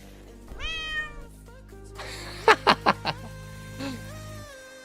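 A cat's meows played on a live stream: a drawn-out meow, then a quick run of four sharp, loud meow bursts and a final softer cry, close and clear.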